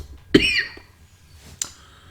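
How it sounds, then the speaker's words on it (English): One sharp, close cough bursts out, followed a moment later by a softer short throat sound. "Sorry about that cough."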